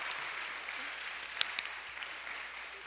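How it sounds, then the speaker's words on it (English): An audience at a symposium held at a Korean church applauds. The clapping is a steady, moderate wash that runs through the whole clip, with a few sharper claps standing out. "Let us give a round of applause for the questions and the answers."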